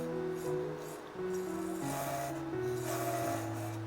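Round-nose, V scrapers and skew cut the bottom of a two-layer segmented wooden bowl on a wood lathe, a steady motor hum with faint rubbing scrapes of the tool against the spinning wood.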